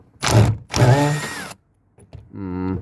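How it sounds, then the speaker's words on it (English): An impact driver with a driver bit backs a screw out in two strong whirring bursts, a short pause, then a steadier lower-pitched run, close and loud with no talking. "I've got an impact driver bit, and we're going to see if I can just wind it back out."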